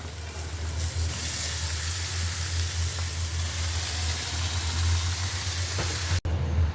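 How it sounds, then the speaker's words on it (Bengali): Red amaranth leaves hit a pan of fried shrimp and sizzle in a steady, loud hiss that runs without a break before cutting off briefly near the end. "চিংড়ি মাছটা ভাজা হয়ে গেছে, এখন আমি দিয়ে দিব লাল শাকটা"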